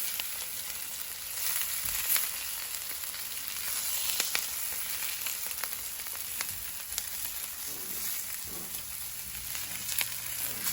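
Onions frying in oil in a pan, a steady close sizzle with faint crackles and occasional stirring clicks throughout, no talking.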